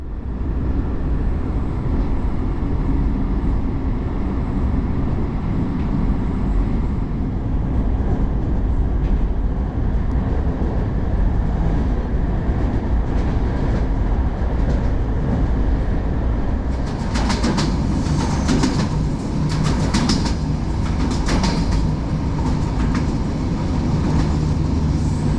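A Romanian long-distance train rolls steadily along the rails with a continuous low rumble and rattle of the carriage, joined later by brief bursts of higher clattering and squeaks.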